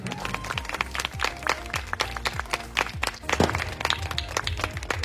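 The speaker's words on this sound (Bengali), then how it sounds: "সবাই একটু জোরে করতালি দিয়ে অভিনন্দন জানাবেন।" An audience at a Bengali gathering on the eve of Bhai Phonta claps together in sustained, dense applause, a continuous patter of many hands with brief louder peaks.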